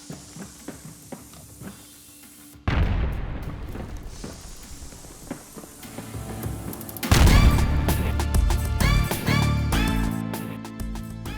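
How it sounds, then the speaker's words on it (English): A bomb explodes in a 3D Bomberman-style remake built in Godot, a sudden loud blast followed by a sustained rumbling roar and a second, heavier burst of crackling debris and booms, with no talk. "After the explosion, a new bomb spawns in the player's hands."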